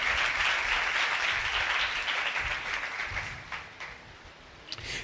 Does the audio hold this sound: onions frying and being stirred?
no